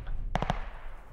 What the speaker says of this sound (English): Grenade. Hold on, grenade.